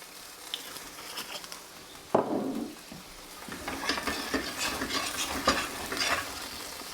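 Beef stroganoff ingredients sizzle and crackle in a hot pan, with a sudden louder hiss partway through as red wine is added and some stirring scrapes; no one speaks.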